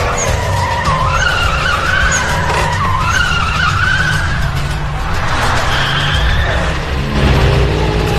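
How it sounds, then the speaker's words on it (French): A car drifts and skids on a race track, its tires squealing loudly and continuously over a steady engine roar, with wavering squeal tones and no voices. "Vrai dérapage."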